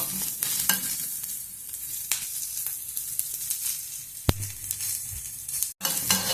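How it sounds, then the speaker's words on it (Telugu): Green chillies and tomato pieces fry in a pan, a faint steady sizzle broken by occasional sharp clicks and a short pop near the end. "టమోటా పండు ముక్కల్ని కూడా వేయించుకున్నాము"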